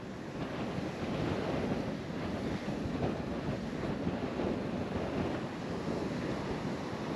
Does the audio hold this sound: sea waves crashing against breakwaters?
yes